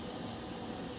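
Jet aircraft engines roar steadily at an airport, a loud continuous broadband rumble with a high whine on top, sustained and fairly close.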